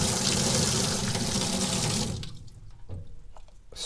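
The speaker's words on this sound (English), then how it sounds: "Again, turn the water on." Water gushes from a sink faucet at full flow for about two seconds, then cuts off abruptly, leaving faint drips and small handling clatter in a quiet room.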